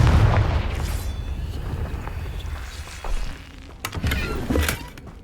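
Confringo explosive spell blasts in Hogwarts Legacy: a heavy boom opens, followed by scattered thuds and a couple of sharper bursts later, with rumbling low impacts in between.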